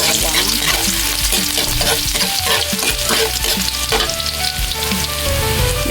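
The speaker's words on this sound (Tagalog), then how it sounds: "maggisa na tayo dun sa ating pinagtanggalan ng karne tsaka konting mantika" Garlic sautéing in a little cooking oil in a pan that previously held meat, with a loud, steady sizzle and frying crackle, plus occasional stirring scrapes and clinks of a utensil throughout.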